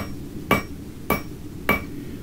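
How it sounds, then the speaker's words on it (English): Three evenly spaced ringing strikes of a rounding hammer on metal held over the beak of an anvil, each a sharp bright clang about half a second apart, close and clear against a quiet room hum. "starting off with the rounding hammer on the beak of the anvil"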